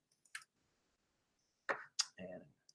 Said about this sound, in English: Got a little busy with the clicking here